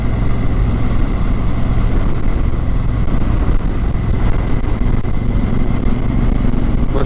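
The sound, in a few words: 2017 Honda Africa Twin motorcycle engine idling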